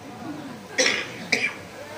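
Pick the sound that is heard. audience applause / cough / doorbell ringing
cough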